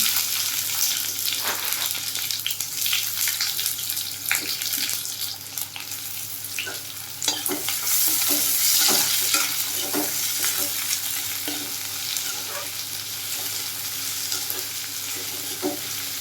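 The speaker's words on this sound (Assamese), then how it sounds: "এতিয়া একে তেলখিনিতে মই তেজপাত দুখিলা লগতে শুকান জলকীয়া এটা দি পেলাই পিঁয়াজখিনি ৰঙচুৱা হোৱালৈকে ভাজি ল'ম।" Onions frying in hot oil with two bay leaves and a dried red chilli for an Assamese chicken curry, a steady close sizzle broken by repeated scraping stir strokes of a spatula in the pan.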